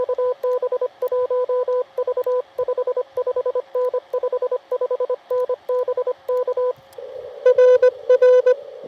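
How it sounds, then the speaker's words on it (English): Morse code sidetone keyed with paddles on a ham radio, a close, clean steady tone pulsing in rapid dots and dashes, shifting to a different pitch near the end. "Why am I talking in Morse code?"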